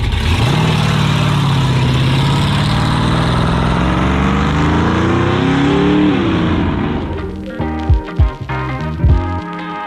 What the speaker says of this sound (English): This car in front of me sounds nasty.